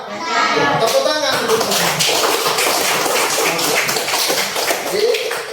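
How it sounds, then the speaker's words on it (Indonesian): Children clap together in a floor-gymnastics lesson in a classroom, a dense burst of many small hands that goes on for several seconds while voices rise around it. "Tepuk tangan."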